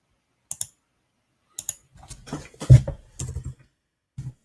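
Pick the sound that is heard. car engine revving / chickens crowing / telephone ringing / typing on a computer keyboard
typing on a computer keyboard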